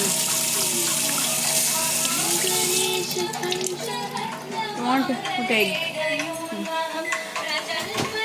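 Tap water runs steadily into a sink while hands are washed and rubbed beneath it, with a child and an adult talking over the flow and the water cutting off partway through.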